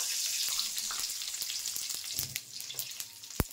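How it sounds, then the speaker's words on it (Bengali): Garam masala and cumin seeds sizzling in hot oil that was already used for frying a fish head, a steady hiss and crackle with a few sharp pops near the end. "সেই তেলে দিয়ে দেবো এই গরম মশলা, তারপর দিয়ে দেবো জিরে"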